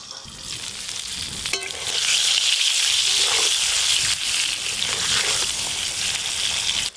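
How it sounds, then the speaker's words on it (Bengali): Eggplant slices frying in oil, a loud, close, steady sizzle and crackle that swells after the first couple of seconds and holds, with light stirring sounds mixed in. "দেখতে দেখতে বেগুনগুলোও ভাজা হয়ে গেল"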